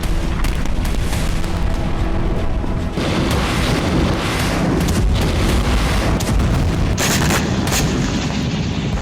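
Explosions from Hezbollah rocket attacks on northern Israel rumble as a dense, continuous barrage of booms and bursts, loud and unbroken throughout with no voices.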